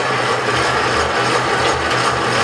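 A Cushman engine cranking and turning over, a continuous close, loud mechanical whir with a low rhythmic churn underneath.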